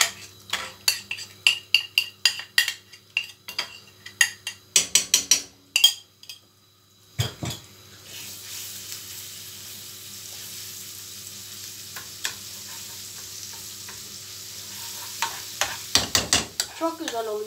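A spoon clinks and scrapes rhythmically against a bowl while stirring flour with water for arabaşı soup, followed by a soft sizzle and a few more stirring taps at the end.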